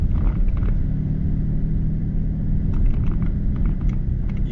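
2023 BMW 760i xDrive with quad-tip exhaust, rumbling in sport mode as a steady, loud, deep drone that stays continuous throughout with no talking.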